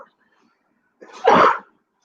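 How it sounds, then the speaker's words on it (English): One loud, close sneeze, a short sharp burst after a quick intake of breath, alone against silence. "I had to sneeze."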